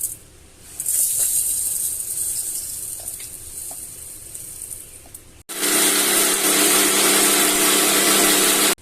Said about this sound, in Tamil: நம்ம மிக்சியில போட்டு இப்ப அரைச்சு எடுத்துக்கலாங்க.